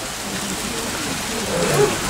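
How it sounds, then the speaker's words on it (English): Heavy hail pelting down during a golf croquet open, a dense, steady roar of hard pellets hitting surfaces that swells slightly near the end, loud and continuous with no voices. "Never seen this much hail."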